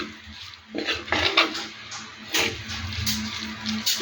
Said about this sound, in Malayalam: ഇതിനെ നമുക്കൊന്ന് നന്നായിട്ടൊന്ന് വഴറ്റി എടുക്കാമേ